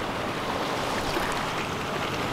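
A waterfall in the Peak District rushes in a steady, dense, broadband roar that fills the whole moment without a break, close and constant, with no voices.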